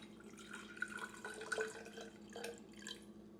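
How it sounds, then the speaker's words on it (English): Sugar water is poured from a container into a hummingbird feeder bottle, a continuous soft trickle with a few small splashy drips, close and fairly quiet with no talking. "all you have to do is pour the desired amount into your feeder"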